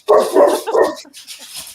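Several dogs bark in a loud, excited burst of overlapping woofs and yips up close, then fade to softer, scattered barks and whimpers.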